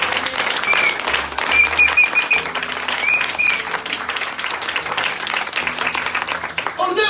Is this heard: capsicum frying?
no